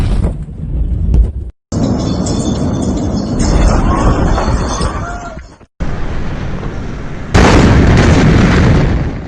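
A loud, sustained roar of a massive blast in Beirut, Lebanon, with rumbling debris and crackling, cut by brief silences, then surging even louder near the end.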